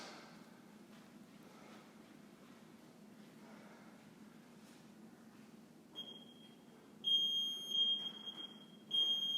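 High electronic beeps from a workout interval timer start partway through, first a steady tone and then a few sharp bursts, over a quiet background hiss.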